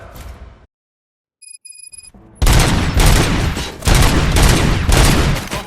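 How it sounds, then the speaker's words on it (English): Heavy gunfire bursts out loud in the Robocop Rogue City video game after a brief quiet moment with faint chimes, continuing as sustained repeated volleys. "Gunshots? What's going on?"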